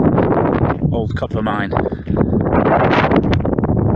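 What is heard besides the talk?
wind blowing at an old copper mine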